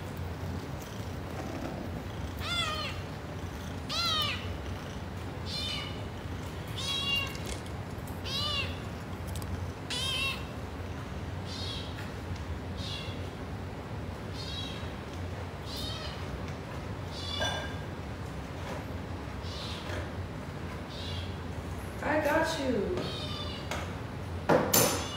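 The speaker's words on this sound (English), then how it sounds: "Yeah, the cat talks." A talkative cat meows repeatedly in loud, drawn-out cries, several calls spread across the whole stretch with a steady low hum underneath and a brief burst near the end.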